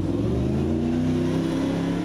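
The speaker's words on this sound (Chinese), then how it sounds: "引擎轰隆隆，听了就想坐上去，满足超跑梦" A supercar engine revs hard and loud, a steady throaty roar that holds and climbs for about two seconds with no voices.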